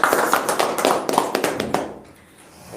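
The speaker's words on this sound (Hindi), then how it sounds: "क्यों ना हम परमेश्वर के लिए जोरदार तालियां दें।" A church congregation at a midweek Hindi service claps loudly for God, a burst of sharp, uneven hand claps that fades out toward the end, with little talk underneath.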